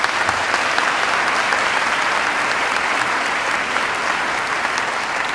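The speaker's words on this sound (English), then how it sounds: "Please join me in applauding these individuals for their leadership efforts" Thick, continuous applause fills the hall at a school district winter commencement, a large crowd clapping steadily at even loudness throughout with no speech.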